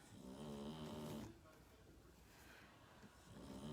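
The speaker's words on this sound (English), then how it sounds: "And he has started snoring" Slow, rhythmic snoring, a rough rattling breath in, a quiet pause, then another snore beginning, close and fairly soft.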